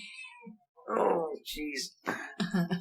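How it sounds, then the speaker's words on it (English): A cat meows loudly up close, a drawn-out cry, while people talk nearby. "That's our cat"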